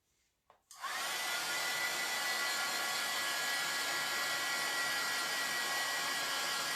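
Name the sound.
dryer blowing to dry a transfer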